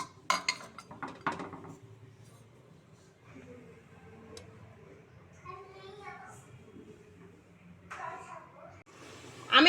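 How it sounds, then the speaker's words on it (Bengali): Chicken curry in a thin red gravy with new potatoes is ladled from a pot into a bowl, with sporadic metallic clinks and scrapes of utensil against cookware while a person talks and a voice is heard. "এবার মাংসটা আমি বাটিতে বেড়ে নেব"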